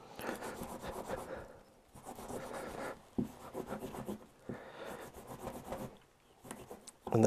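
Suzuki Bandit 650 rear brake caliper parts are rubbed on a cloth soaked in metal cleaner on a bench, giving close, quiet scrubbing strokes in four rhythmic bursts separated by short pauses.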